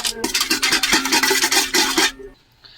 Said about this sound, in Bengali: এখন বিরিয়ানির জন্য দুধটা গুলে নিচ্ছি